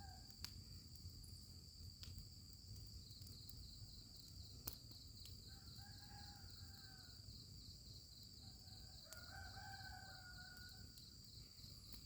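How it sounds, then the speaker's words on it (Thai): A rooster crows twice in the distance in the early morning, each call drawn out, over a constant high chirring of insects in a quiet rural Thai outdoor setting. "เสียงไก่ขันยามเช้านะครับ"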